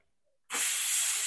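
A pressure cooker used for cooking a vegetable curry suddenly releases steam in a loud, steady hiss that starts abruptly and continues without letup, close to the listener.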